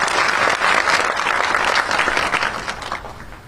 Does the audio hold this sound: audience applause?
yes